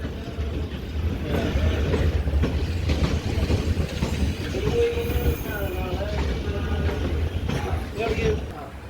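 A Chennai–Mangalore passenger train rolls past close by, with a continuous heavy rumble, rhythmic wheel clatter and brief metallic squeals, while a voice talks faintly underneath.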